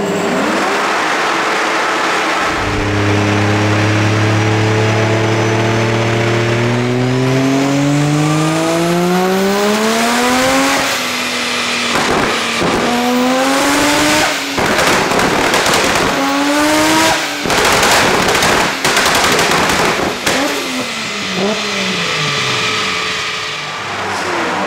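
A 2JZ-swapped BMW E46 race car with antilag revs hard through repeated rising pulls, with sharp popping bangs and tyre squeal crackling in, loud and close throughout.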